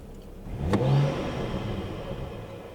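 BMW E92 engine revving as the car pulls away, a rising mid-pitched swell that peaks and settles, heard from inside at moderate loudness.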